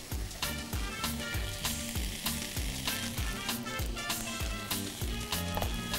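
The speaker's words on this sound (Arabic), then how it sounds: "ونقلب بقى ده كل الخليط اللي عندنا" Boiled diced potatoes and a vegetable mixture sizzle steadily in a pan, with a rhythmic scraping of stirring repeating about once a second, close and fairly loud with no talk.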